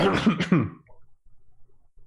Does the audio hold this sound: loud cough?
yes